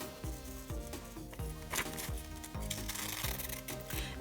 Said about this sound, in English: And for the rest, I'm going to use my scissors.